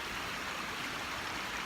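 Running water of a stream beside a parked van, a steady broadband rush, close and continuous with no talk.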